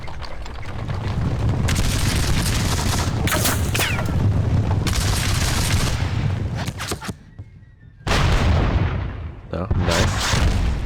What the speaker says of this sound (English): Oh, nice. Cannon support.